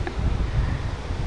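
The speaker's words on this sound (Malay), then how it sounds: "Angin memang kuat lah pantai timur kan" Strong wind buffets the microphone at an east coast beach by the sea, a steady low roaring rumble with gusty swells and no voices.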